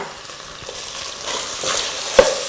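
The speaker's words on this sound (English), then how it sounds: "See, our onions are sauteing nicely." Onions sauté in a pan with a steady close sizzle, while a utensil stirs through them with soft scraping strokes and ends on one sharp clink.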